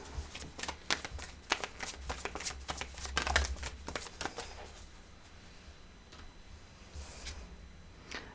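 Tarot and oracle cards being shuffled and drawn, a rapid run of crisp riffling snaps and slaps for several seconds that thins into softer, sparser handling near the end, close and alone.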